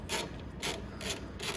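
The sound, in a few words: 13mm wrench removing control box bolts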